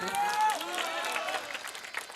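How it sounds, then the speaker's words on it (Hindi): Audience clapping at a village stage program in India, a steady burst of applause filling the whole stretch at moderate level, with crowd noise and some voices mixed in. "एक बार ताली बजाइए"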